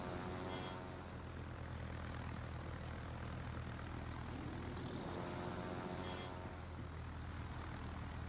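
Propeller aircraft engine from the World of Warships naval game, a steady droning hum with harmonic buzz holding throughout, loud and constant with no talk over it.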